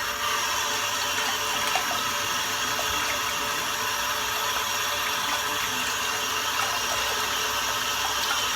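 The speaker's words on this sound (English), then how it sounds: "just rinse the soap out." Tap water runs steadily to rinse shaving soap out of a brush during a head shave, a continuous close hiss and splash with no talking.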